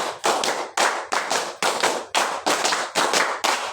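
A class of schoolgirls at an Islamic boarding school claps in unison, sharp hand claps grouped in a steady repeating rhythm of bursts, loud and close, with no voices over them.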